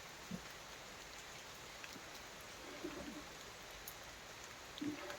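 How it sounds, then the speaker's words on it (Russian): Steady rain falling in a cold, damp autumn forest, a continuous soft patter of drops with a few faint bird coos in the background. "Не иди под дождь."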